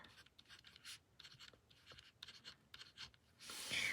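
A pen writes on a paper cash envelope, making faint, close scratchy strokes in short irregular bursts, ending in a louder rustle.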